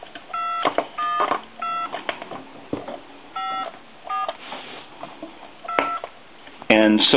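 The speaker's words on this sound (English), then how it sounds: "I'm going to give you some dial tone, and then I'm just going to reach around and dial a few numbers" Touch-tone dialing on a Crosley wood wall speakerphone under repair, a series of short paired beeps in uneven bursts, with a brief steady tone at the end.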